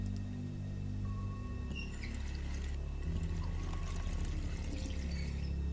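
Water pours steadily from a cup in the video game The Wolf Among Us, a soft continuous trickle over a low humming game soundtrack.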